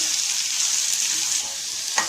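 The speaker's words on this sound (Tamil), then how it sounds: "இப்போ வெங்காயம் ஆட் பண்ணிக்கோங்க. இப்போ நல்லா வதக்கிக்கோங்க." Onions sautéing in a pan for a horse gram and thuthuvalai soup give a steady, close sizzle, with brief scraping stirs and a louder stroke near the end.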